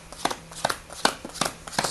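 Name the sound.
dealing out playing cards for a card trick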